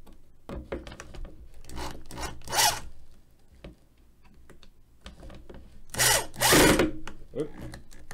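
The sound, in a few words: power drill redoing screws in wood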